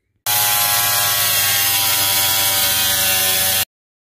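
A 4.5 inch angle grinder fitted with a spider cutoff wheel cuts into a boat livewell on a Bass Tracker, a loud continuous high whine that starts abruptly and stops after about three seconds.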